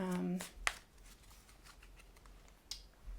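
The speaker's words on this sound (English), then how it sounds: "I'm going to shuffle and draw a few cards for" Brief riffling and soft card flicks as playing cards are shuffled, with a sharp snap early on and another later, quiet and close, following a short hum at the start.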